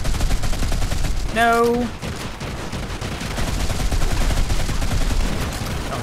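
Continuous rapid-fire gunfire in Modern Combat 5 rattles steadily throughout, loud and close, with a brief whistling tone cutting in early and a short spoken word from a player over the shooting.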